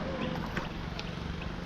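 A boat moves across water among islands linked by bridges, giving a steady broadband rush of water and wind with faint knocks and no break.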